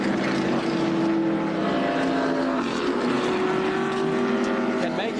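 Darrell Waltrip's stock car roars out of the pits at Talladega, a loud sustained engine drone with a slowly shifting pitch beneath a race commentator's voice.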